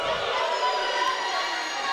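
A basketball crowd roars and murmurs in reaction to a referee's foul call, a steady broad wash of voices that stays loud and continuous for a brief moment.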